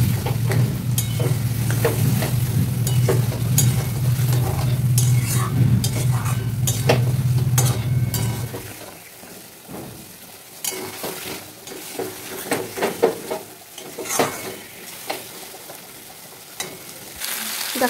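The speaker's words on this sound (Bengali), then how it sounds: "এই জলটাও কিন্তু আমি এখন এর মধ্যে দিয়ে ভালো করে কষিয়ে নেব" Masala sautéed with water in a pan for a vegetarian aloo dum, frying loudly with steady bubbling sizzle for about half the clip, then quieter sizzling broken by scraping and stirring clinks of a spoon against the pan.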